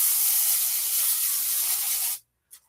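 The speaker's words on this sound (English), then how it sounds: "I'll just spray with some extra virgin olive oil" Extra virgin olive oil sprayed from a spray bottle over shrimp and fish skewers before grilling: a steady, close, loud hiss lasting about two seconds, then it stops abruptly, leaving near silence and a faint brief click.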